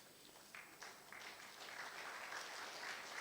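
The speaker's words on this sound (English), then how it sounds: "Thank you for the applause." Audience applause in a conference session hall, faint and distant clapping that starts sparse and builds into steady applause.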